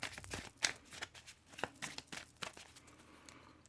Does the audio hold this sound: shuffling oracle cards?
yes